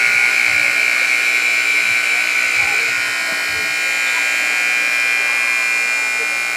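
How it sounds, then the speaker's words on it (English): A stuck buzzer at a KHSAA high school boys basketball game between Owen County and Shelby County in Kentucky drones on in one loud, unbroken electronic tone that never cuts off. "got the buzzer stuck"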